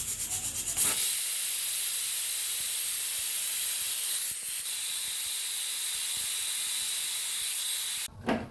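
A pressure cooker cooking aloo matar lets out a long, steady steam hiss that runs nearly unbroken for several seconds, loud and close, with a brief louder burst at the start and end.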